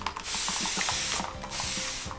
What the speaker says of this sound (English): I spread out my fabric on my ironing board, and I just give it a little spritz of my Best Press.